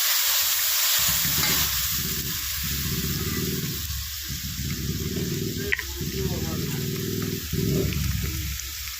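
Spice paste with turmeric, salt and chili paste frying in oil for a Bengali bhola fish curry, a steady loud sizzle broken by rhythmic scraping stirs every second or two.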